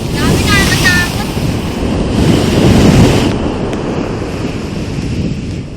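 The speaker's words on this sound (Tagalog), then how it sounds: "Ang laki-laki ng alon." Big ocean waves surge and crash on a shore in a rolling, roaring wash with heavy wind buffeting close to the microphone. A brief voice is heard early on.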